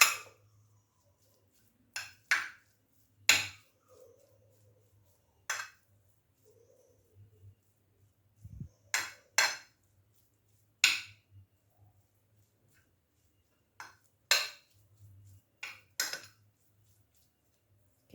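Egg bread batter with chili and coriander is mixed in a bowl, sharp scattered clinks and scrapes of a utensil against the dish, irregular and close with quiet gaps between.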